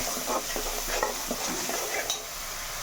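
Red chilli, salt, turmeric and masala are stirred into frying cabbage and chana dal in a pan, giving a continuous loud sizzle broken by repeated scraping strokes of the spoon.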